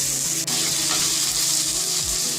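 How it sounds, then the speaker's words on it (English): Sliced onions sautéing in oil with a pinch of salt, a steady close hiss of frying with faint scraping from stirring. "Now I'm going to add the sliced onions into the oil and again saute it till they become soft."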